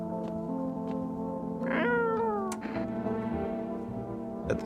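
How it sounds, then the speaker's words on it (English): A cat in the video game No, I'm Not Human meows several times in a row, clear and close, one call sliding upward and then falling away, with a steady low hum underneath. "Pet the cat."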